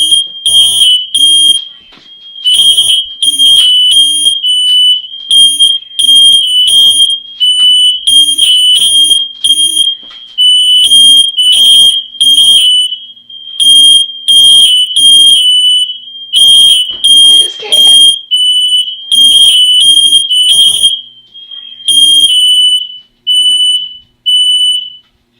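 A smoke alarm beeps in rapid repeated bursts, a shrill piercing tone pulsing on and off steadily with brief pauses, with faint voices underneath.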